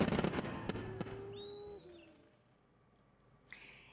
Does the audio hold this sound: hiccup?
no